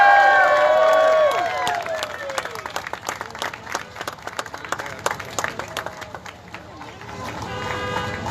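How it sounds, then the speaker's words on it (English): An outdoor crowd at Burt Ward's Hollywood Walk of Fame star unveiling applauds and cheers, with dense clapping that follows loud whoops and voices near the start and then stays steady under scattered shouts. "So please join us by celebrating and cheering"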